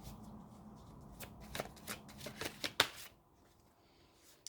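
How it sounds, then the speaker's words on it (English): Tarot cards shuffled by hand at close range, a quiet run of crisp riffling flutters and soft taps that ends in near silence. "Let me give it a couple more shuffles and then I'll start."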